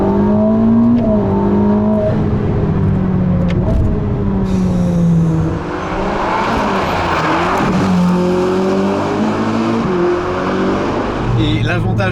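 Ferrari SF90 Stradale's V8 hybrid engine accelerating hard, a loud sustained drone with rising pitch sweeps through gear changes, heard close from inside the car over about twelve seconds.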